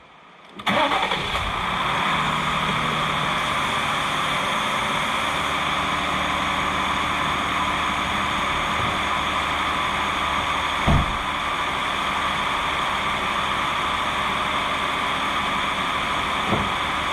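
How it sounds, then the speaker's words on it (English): A cold 2020 Jeep Gladiator Rubicon with a 6-speed manual and 62k miles starts up and settles into a steady, even idle with no ticking, loud and close, with a brief thump partway through. "There it is, the engine that's cold and it's not ticking"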